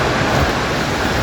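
A waterfall roars up close as a steady, dense rush of falling water with wind buffeting around it, loud and unbroken throughout.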